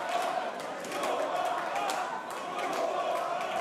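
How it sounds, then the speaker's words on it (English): A wrestling crowd chants for the mustache man at a wXw Wrestling-EM event, a steady rhythmic mass of voices with repeated pulses and some clapping, carrying on under a commentator's voice. "You see how gradually, over time, the mustache man chants grow in size."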